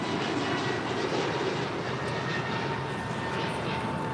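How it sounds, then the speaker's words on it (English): An American Airlines Airbus A321neo departs LAX bound for Philadelphia, its engines a moderate, steady distant roar without breaks. "This is American Airlines 1245 departing to Philadelphia on an A321neo."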